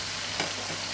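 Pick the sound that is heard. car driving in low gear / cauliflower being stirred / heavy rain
cauliflower being stirred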